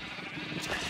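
A single short sheep bleat from Minecraft, fairly clear and close over a low background of game noise.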